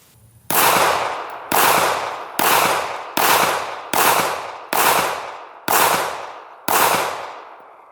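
Eight loud Makarov pistol shots ring out one at a time at a steady pace, each a sharp crack with a ringing tail. No voices.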